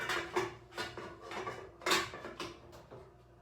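Pasta draining through the strainer insert of a Bialetti pasta cooker, with repeated metallic clanks and knocks of the pot and lid over a steady pour of water, close and moderately loud.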